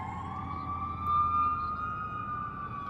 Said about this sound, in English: That's the ambulance there.